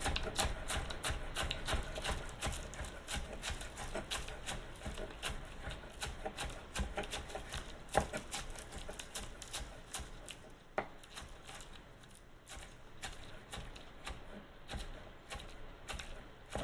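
A knife chops through fresh garden scallions in a quick, steady run of light, close cutting taps that continue without pause, with no talking.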